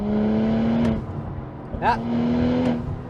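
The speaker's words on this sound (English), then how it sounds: "Let me see if I can produce some of the turbo sounds." A 2025 BMW M440i's engine pulls with a rising tone, then lets out a quick whooshing turbo pressure release and resumes accelerating, heard from inside the car, loud and near.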